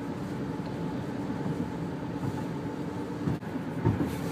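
A train rumbles past in Iowa, a continuous low mechanical roar with a steady hum that holds throughout and swells slightly toward the end, heard on its own without speech.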